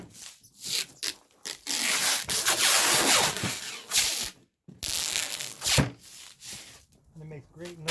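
Plastic wrap pulled from a roll and wound around a heavy sewing machine being packed for shipping, bursts of loud crinkling and stretching rasps with short pauses between, close up, with brief talking in places.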